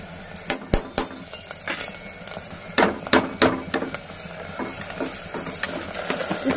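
Onion, green chili and mint being stirred in a pan for cauliflower rice, with spoon scrapes and clinks against the metal repeating irregularly, fairly close and alone without talk.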